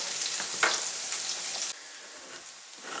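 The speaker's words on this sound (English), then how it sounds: "You can hear the onions sauteing in the background there." Onions sizzle and crackle in a hot pan, a steady frying hiss with occasional pops and stirring, no talking.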